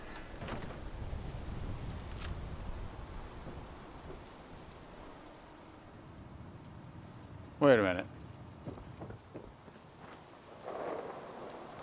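A steady wash of rain falls in the Fallout 76 game world, with one short, loud thunder crack near the middle, while someone talks over it now and then.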